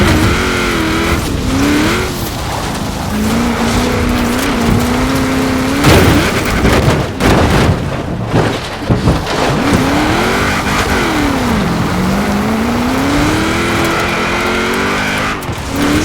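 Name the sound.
car driving in the video game Forza Horizon 4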